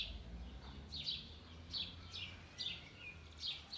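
Small birds chirp in short repeated bursts, about five evenly spaced calls, faint against a quiet low hum.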